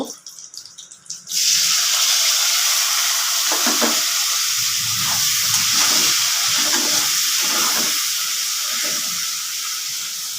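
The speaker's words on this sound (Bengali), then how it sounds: "আমি তেজপাতা ফোড়ন দিয়ে দিলাম পেঁয়াজটাও ভেজে নেব" Loud, steady sizzling of chopped onion and bay leaf frying in hot oil starts abruptly and continues throughout, with faint scraping underneath.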